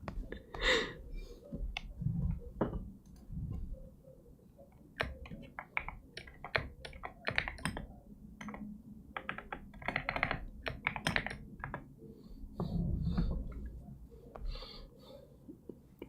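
Keys on a computer keyboard clack in quiet, irregular bursts of typing during a digital painting session, soft close clicks with occasional breathing and no talk.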